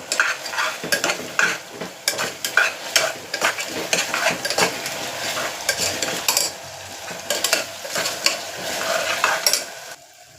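Chopped medium tomatoes and green chili frying in a pan, with a steady sizzle broken by repeated stirring scrapes and clinks of a utensil, close and fairly loud throughout with no talking.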